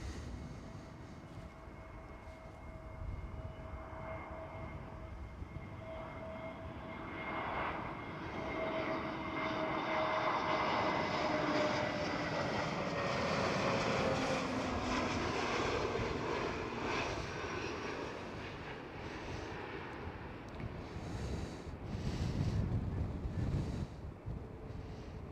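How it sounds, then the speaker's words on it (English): A Transavia Airbus A321neo comes in to land, a steady jet roar with tonal engine whine that rises and lingers at moderate distance, mixed with some wind buffeting on the microphone. "Next one up for arrival is Transavia Airbus"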